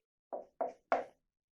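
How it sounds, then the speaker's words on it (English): Three crisp knocks on wood, evenly spaced and fairly quiet, each a short sharp rap with a quick decay, heard alone in silence. "I'll knock the wood."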